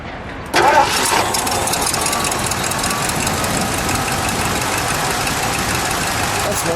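A 1979 Lincoln Continental Mark V Bill Blass with a 400 engine cranks and catches abruptly, then settles into a steady, even idle heard near the single exhaust.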